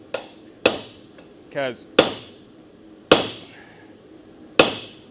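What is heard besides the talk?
blacksmith hammering hot metal while forging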